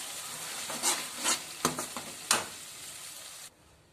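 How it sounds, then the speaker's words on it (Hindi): Chickpea greens are stirred in a cooking pan, giving a few rough scraping strokes over a gentle sizzle before it cuts away to near silence; nobody talks. "अब इसमें हम चने का साग डाल देंगे और इसको अच्छे से मिक्स कर देंगे"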